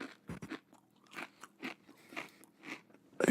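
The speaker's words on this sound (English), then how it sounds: "I'll chew. Crunchy potato chips." Crunchy potato chips being chewed close up, a series of sharp crisp crunches in an uneven rhythm, with no talk.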